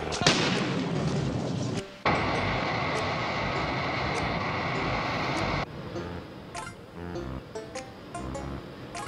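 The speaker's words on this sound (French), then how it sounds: "un petit effet spécial à base de pétards que t'achètes au tabac du coin" A rapid, crackling barrage of store-bought firecrackers used as a special effect, loud and close, running continuously before thinning into scattered pops.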